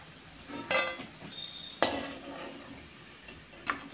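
Fish roe and onion fritters being lifted out of hot oil in a frying pan give a few brief clinks and scrapes of a utensil against the pan, with a soft sizzle in the background.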